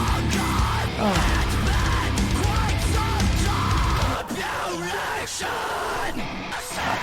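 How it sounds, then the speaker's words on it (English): A screamed vocal in a heavy song by The Devil Wears Prada from the Zombie II EP rides over dense, loud distorted guitars and drums, with the full band mix pausing briefly partway through. "The way that scream was mixed."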